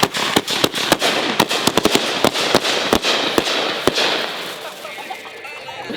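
Fireworks burst during a 4th of July celebration, a rapid irregular barrage of sharp loud bangs and crackles that gradually thins out toward the end.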